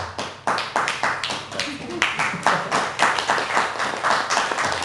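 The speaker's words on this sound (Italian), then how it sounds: "Anche l'applauso." Applause from an audience at a Chamber of Commerce presentation in Padova, a steady patter of clapping hands for several seconds, fairly close, with a voice speaking briefly over it.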